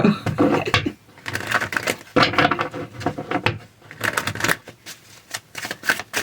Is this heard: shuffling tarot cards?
yes